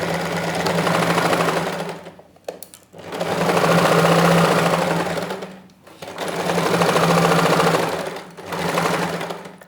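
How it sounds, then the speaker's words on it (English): A sewing machine stitching a woman's trousers runs in long steady bursts, stopping briefly between seams, loud and close with a constant mechanical whir. "So right now we'll take to our sewing machine,"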